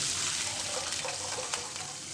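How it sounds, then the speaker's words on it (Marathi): Water pours in a steady gushing stream into a cooking pan of tempered spice paste for a rustic Maharashtrian shengole dish, close and continuous throughout with no talk. "आता पाणी घालायचं पाणी भरपूर टाकायचं"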